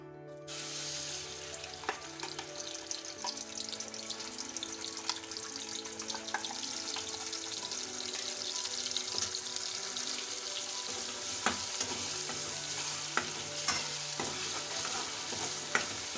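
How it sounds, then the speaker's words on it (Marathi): Ground raw onion masala fries in oil in a hot kadhai for egg curry, giving a steady close sizzle broken by repeated scraping stirs of a spoon against the metal. No one speaks. "कढाई आपली आता गरम झालेली आहे. तेल घेऊ. आता मसाला परतून घेऊ."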